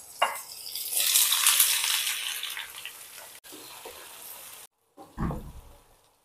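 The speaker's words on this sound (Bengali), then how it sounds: "এবারে একে একে সব সবজিগুলো আমি দিয়ে দিচ্ছি" Vegetables for Bengali shukto go one by one into hot oil, setting off a loud hissing sizzle that slowly settles, then a brief pause and a second burst with a clatter, close by with no talk.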